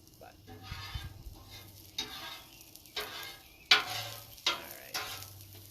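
Onions sizzle on a flat-top griddle while a spatula scrapes and stirs them in several sharp strokes, the steady frying hiss running underneath close by.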